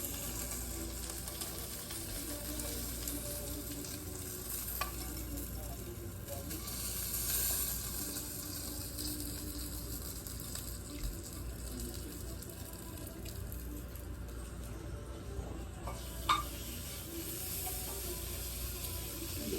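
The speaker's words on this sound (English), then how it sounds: "Hear that sizzle?" A steady, moderate sizzle of a small piece of sausage frying in a pan, a continuous hiss with a few small pops, no voices.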